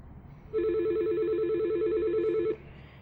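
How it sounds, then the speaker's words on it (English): A phone on a 3CX VoIP system gives a single steady, warbling ring lasting about two seconds, clear and close over a faint background hum. "As you can see, I'm calling home. This is real phone."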